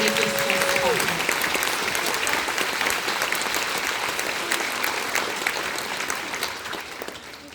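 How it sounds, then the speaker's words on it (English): Sustained audience applause for staff members at a school concert, a dense steady clatter of many hands that fades slightly toward the end, with a brief tonal note near the start. "So a big round of applause for all of those staff members that make this possible."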